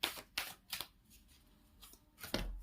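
Tarot cards are pulled one by one from a deck during a reading, giving quick papery flicks and slides in a few close, distinct bursts with short pauses between them and no talking.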